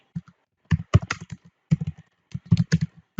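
Short bursts of keystrokes clatter on a computer keyboard, quick clustered taps separated by brief pauses, close and clear in an otherwise quiet room.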